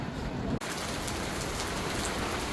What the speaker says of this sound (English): And it is pouring.